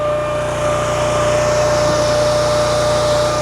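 A Honda iGX800-powered Wolfe 42 XDI extreme-duty industrial wood splitter runs through a dry cycle, a loud steady engine drone with a high whine, unbroken from start to finish and heard alone.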